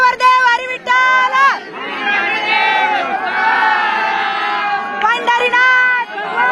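Crowd of pilgrims at the Pandharpur Wari clapping and cheering loudly, a sustained mass of shouts and applause with voices rising over it.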